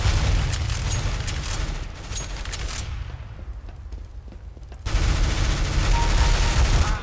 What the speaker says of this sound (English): Even there's like three people shooting at me.